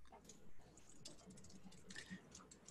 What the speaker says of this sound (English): I'm typing responses and talking at the same time.